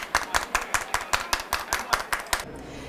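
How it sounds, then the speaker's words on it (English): A group of people clapping their hands in a steady, even rhythm, about a dozen crisp claps close by, then stopping abruptly. "Everybody clap your hands."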